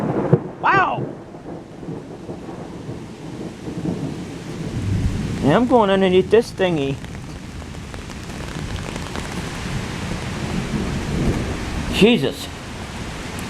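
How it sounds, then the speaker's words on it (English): Rain pouring during an outdoor concert, a steady close hiss of falling water throughout, broken by brief shouts and exclamations from nearby people. "It's raining out there."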